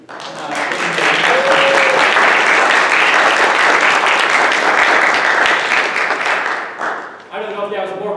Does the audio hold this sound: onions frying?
no